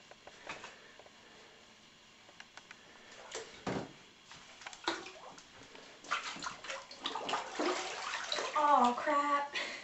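A woman getting into a filled bathtub, with water sloshing and splashing that builds toward the end, faint in a quiet room; a voice talks over part of it.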